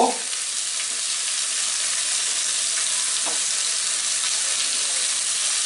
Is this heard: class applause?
no